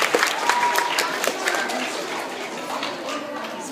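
Audience applause for coaches at an event, a lively burst of many hands clapping that gradually softens, with faint crowd voices mixed in.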